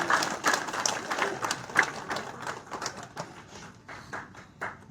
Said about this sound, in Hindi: तालियां लगातार बजती होनी चाहिए